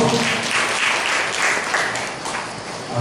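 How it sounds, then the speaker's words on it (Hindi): Enthusiastic applause from a church congregation, a steady wash of clapping that rises and falls slightly over a few seconds. "जोरदार ताली बजाओ।"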